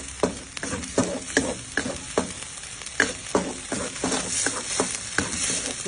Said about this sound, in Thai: คั่วให้มันหอมกับกะทิหน่อย